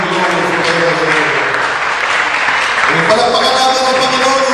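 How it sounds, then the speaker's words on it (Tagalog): A church congregation claps at a Sunday worship service, a continuous crowd patter blended with tonal voices or singing and music over it, steady and fairly loud throughout. "Palakpakan natin in Jesus' name."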